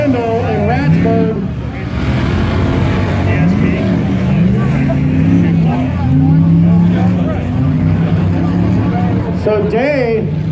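Off-road race cars battling through rocks in a NorCal rock racing heat at Prairie City, engines whining and revving loudly at shifting pitch, with an announcer talking over the steady motor noise.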